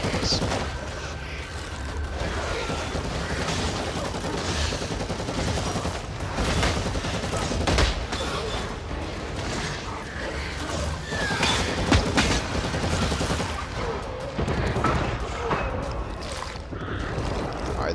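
Continuous friendly gunfire in Warhammer 40k Eternal Crusade, a PvE lair fight, forms a steady dense barrage of shots and booms throughout, with intermittent sharper bursts.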